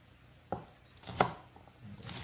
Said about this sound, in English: So I am going to cut up the green onions first.